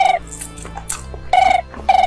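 A mobile phone ringtone plays loudly and close by, a repeating electronic melody of bright tonal notes in short phrases, with no talking.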